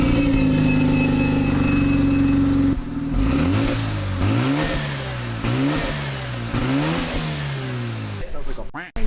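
A Mazda RX-7 Spirit R rotary engine idles roughly, then is revved in a series of sharp, loud climbs and drops, close and raspy, with a voice briefly heard near the end.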